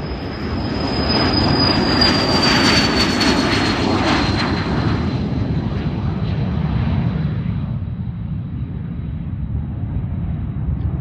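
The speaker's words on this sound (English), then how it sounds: "we have this Honda jet taking off" A HondaJet takes off with a loud, roaring engine rush and a high turbine whine that peaks early, then fades steadily as the jet climbs away, with no talk.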